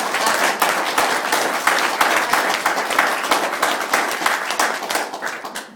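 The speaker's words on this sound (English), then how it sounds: "Give them all a clap" A full crowd claps steadily for honored guests at a live youth event, a dense, loud, even wash of applause throughout.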